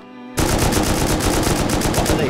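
Rapid automatic gunfire aimed at an embrasure in the game Rust bursts in after a brief quiet moment, a loud, dense rattle of shots that continues without pause.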